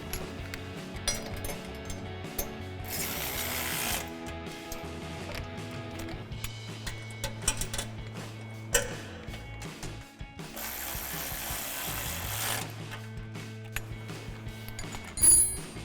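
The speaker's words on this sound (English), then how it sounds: "we're gonna grab our ratchet with our 4 millimeter Allen socket and a 10 millimeter wrench on the back" A ratchet fitted with a 4 mm Allen socket tightens bolts on a Barde front bumper for a 2015-2017 Ford F-150, giving bursts of quick metallic clicking alternating with rhythmic ratcheting strokes and small clinks, close and fairly quiet.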